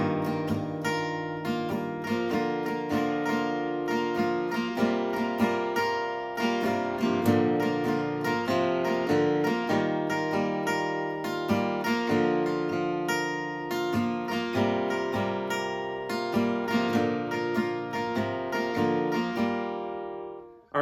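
An acoustic guitar strums chords in a steady, even rhythm for about twenty seconds, moving through the progression of a song before stopping abruptly.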